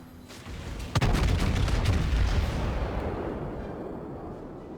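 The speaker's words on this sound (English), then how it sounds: "I've still got 2 tier 5 battleships shooting at me" Battleship artillery fire in the naval game World of Warships: a single sharp boom lands about a second in, then a long loud rumbling tail that slowly fades, with a few faint pops before it.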